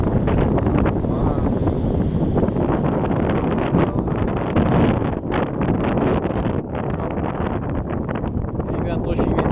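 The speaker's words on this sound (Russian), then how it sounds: "Ребят, очень ветер, представляете." Strong gusting wind on an overcast March day in Otradnoye batters the microphone with continuous loud, rumbling buffeting, while someone speaks over it.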